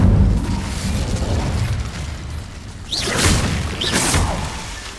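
A fire spell cast in Hogwarts Legacy, heard as two strong whooshing, crackling bursts about a second apart that rise out of a rumbling game ambience.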